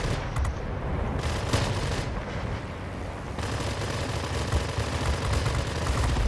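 Aircraft machine guns fire in World of Warplanes from a Yak-9 fighter, a dense, continuous crackle of rapid gunfire with a few sharper bursts, loud and close with no talking.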